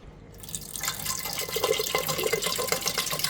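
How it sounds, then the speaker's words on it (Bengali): Water is poured into a pot of boiled lentils for a sour green-mango dal, a steady splashing and trickling stream that starts after a brief quiet moment and continues, close and moderately loud. "এবার আমি একটু ডালে জল দিয়ে দিচ্ছি"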